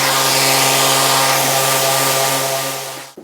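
A gentle hand sanding pass over wood on a kitchen drawer being altered to fit a deeper hob unit, a steady close rasping hiss that runs alone and tapers off near the end.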